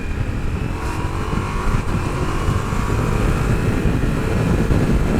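A Ducati Multistrada V4S motorcycle, a 2021 model, runs with a steady deep engine drone that rises slightly as the throttle opens, close and loud with no voices over it.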